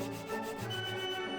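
Sandpaper rubs back and forth in steady, continuous strokes, close and fairly loud, while shaping a handmade cheese-shaped wireless charger.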